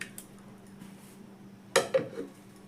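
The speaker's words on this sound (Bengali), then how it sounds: "এবার একটা ঢাকনা লাগিয়ে ঢাকনা চাপা দিয়ে রেখে দেবো" A lid goes over a bowl of mixed semolina and yogurt: faint quiet handling, then a sharp clink of the lid meeting the bowl and a second lighter knock as it settles, close by.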